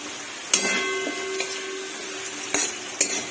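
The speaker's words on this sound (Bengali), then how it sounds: "আলুগুলো একটু লাল লাল ভাজা হয়ে গেছে" Potatoes frying in a pan, with a steady close sizzle punctuated by a few sharp metallic scrapes and knocks of a utensil stirring them.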